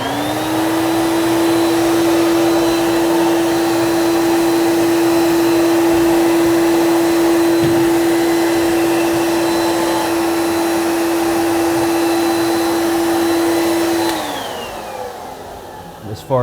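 A Crain 280 HD air mover blower runs loud and steady with a strong whining tone, then powers down near the end as the whine drops away.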